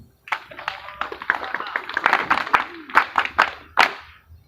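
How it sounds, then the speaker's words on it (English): An audience claps for retiring junior officers and NCOs at a UPDF ceremony at the 4th Division barracks in Gulu, with uneven, dense clapping close to the microphone alongside mixed voices across several seconds. "We clap for them."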